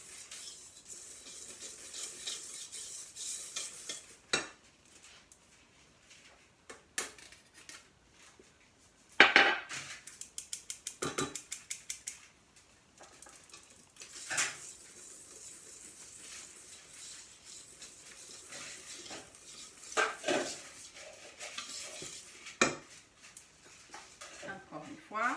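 A whisk stirs sifted flour into carrot cake batter in a bowl, making quiet, intermittent scraping and light clinking in short bursts with pauses between them.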